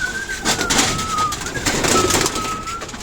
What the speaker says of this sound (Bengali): দেখো কবুতরগুলো কী খাবারের জন্য